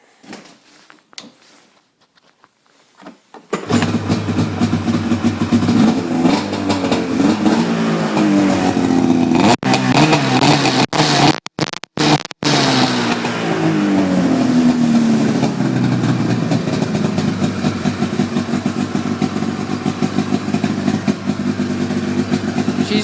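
A 2008 Arctic Cat Sno Pro 600 snowmobile with a rumble pack silencer cranks briefly, then fires up and runs loud and close, a harsh, steady two-stroke drone with a few blips of throttle and brief cut-outs.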